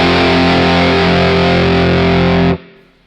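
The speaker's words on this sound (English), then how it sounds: "This is without the EQ" Electric guitar run through a MOOER GE200 multi-effects unit on a preset with the EQ off, a loud, sustained distorted chord ringing steadily for about two and a half seconds before being cut off abruptly.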